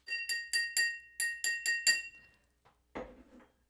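A water-filled drinking glass is struck repeatedly, giving eight bright ringing tings in an even rhythm, each sustaining briefly, followed by a few softer taps and a dull knock near the end.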